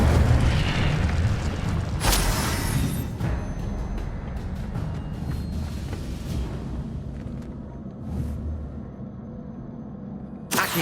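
Incendio fire spell bursting in Hogwarts Legacy on PS5, a loud booming blast with a sharp flare near two seconds, then a sustained roaring rumble and crackle that stays dense throughout, with another small burst near the end.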